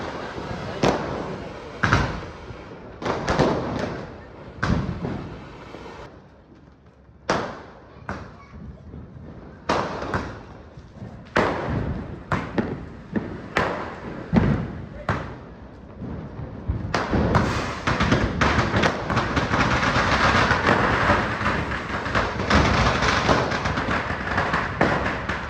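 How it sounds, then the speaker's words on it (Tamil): Single-shot firecrackers go off at Diwali as a series of sharp, loud bangs spaced irregularly, each a sudden crack fading quickly, with people talking in between and a denser, noisier stretch of crackling near the end. "இந்த சிங்கிள் ஷாட் வெடிச்சு காட்டுற எப்படி இருக்குன்ட்டு பார்ப்போம்."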